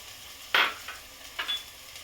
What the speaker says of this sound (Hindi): इसे मैं पहले अच्छी तरह मिला लेती हूँ, थोड़ा भून लूंगी।